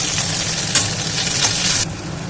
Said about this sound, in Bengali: আমি সিদ্ধ করা আলুটা দিয়ে ভালোভাবে নেড়ে চেড়ে নেব